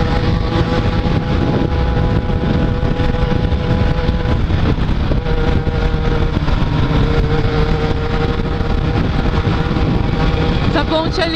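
A Yamaha XJ6 motorcycle cruises across a bridge at steady, moderate throttle, its engine drone droning continuously under heavy wind rush with no revving.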